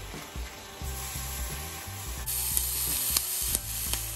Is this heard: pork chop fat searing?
yes